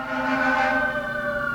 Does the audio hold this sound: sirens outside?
yes